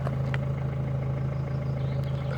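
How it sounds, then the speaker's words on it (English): A 1.6-liter four-cylinder turbo diesel car engine idles steadily, heard from close behind the car with a low, even clatter and a constant hum and no talking. "I love the sound of diesels in the mornings."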